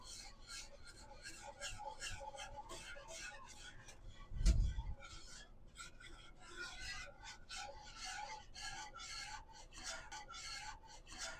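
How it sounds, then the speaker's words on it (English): A whisk beats ingredients into a cream sauce for pork chops in quick, steady, raspy strokes that scrape the pan, close but faint, with one dull thump midway. "And then I'm just going to whisk this in."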